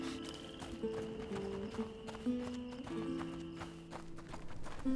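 A horse in the video game A Plague Tale: Innocence, with rhythmic hoof clip-clops and faint snorting under a steady game music drone.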